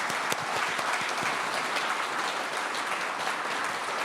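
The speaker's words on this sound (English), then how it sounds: "A warm round of applause is in order for everyone on the stage." Steady applause from a conference audience thanking the panelists on stage at the close of a session on artificial intelligence and international peace, with dense even clapping throughout and no voices.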